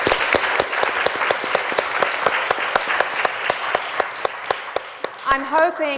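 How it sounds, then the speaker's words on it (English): Attendees at a conference session on integration working groups clap for their own work, a crisp, steady run of sharp claps at a regular pace that stays prominent, with a voice rising briefly near the end. "I think everyone should give themselves a round of applause for this amazing work."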